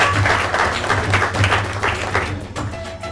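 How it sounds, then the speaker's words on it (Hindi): Applause from a lively audience at a pub gathering in Chandigarh, steady dense clapping held at an even level throughout, with a low musical hum beneath. "तालियां मैम के लिए सबसे पहले।"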